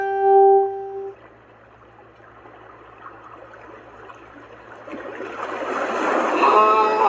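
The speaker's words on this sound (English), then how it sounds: "Ah, that's a mighty sea wave." A white noise machine on its sea wave setting: a short electronic beep first, then a soft hiss that builds steadily into a louder rushing surge like a big wave breaking, ending in another beep.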